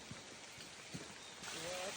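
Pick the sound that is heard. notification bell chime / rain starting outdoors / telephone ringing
rain starting outdoors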